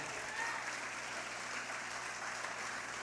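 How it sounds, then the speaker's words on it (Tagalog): A church congregation claps steadily in praise during a worship service, a continuous even wash of many hands at moderate distance with no talking over it. "Palakpakan nato ang atong Ginoo, makusog."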